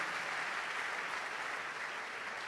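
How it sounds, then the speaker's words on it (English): Summit audience applause rolls on as an even, continuous wash of many hands, fairly soft and distant, with no voices over it. "Don't stop clapping, don't stop clapping."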